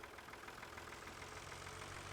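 Tractor engine idling steadily in Farming Simulator 2013, a continuous low rumble with a faint mechanical knock, quiet and unbroken throughout with no talking.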